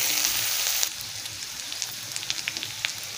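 Vegetables for Maggi spring rolls sizzling lightly in a pan: a loud burst of frying hiss at first, then a steadier, quieter sizzle with small pops and crackles.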